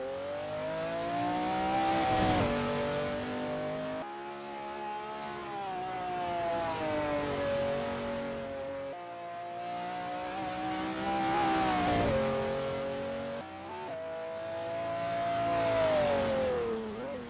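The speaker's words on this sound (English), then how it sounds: "Zahn is getting to grips with the ASRL McLaren F1 GTR in this practice session." A McLaren F1 GTR race car laps Sonoma in practice, its engine droning loud and close as it revs up and down through the gears. It lifts off and shifts several times, with no talk.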